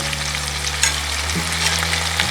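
Steady, crackling sizzle of chicken breast frying in a hot pan, continuous and close, with a low background hum and no talking.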